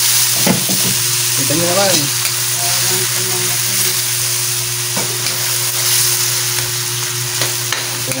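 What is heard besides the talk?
onions frying and sizzling in a pan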